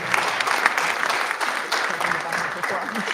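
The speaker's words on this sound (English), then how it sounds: "Another round of applause for Mrs. Craig." Room applause at a school board meeting for an honored educator, Mrs. Craig, a dense even spread of many hands clapping at moderate volume, with some voices mixed into the crowd.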